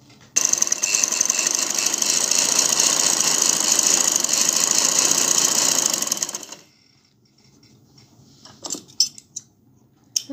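A sewing machine runs fast and steady for about six seconds while stitching the corners of a ladies' kameez, then stops, followed by a few faint handling clicks and rustles, with no talking.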